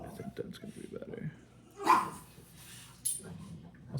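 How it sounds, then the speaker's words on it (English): Dogs in the room give a couple of sharp barks and yips between stretches of quiet, while a person speaks softly in the background as an American 1100 lock is worked on. "sorry about my dogs"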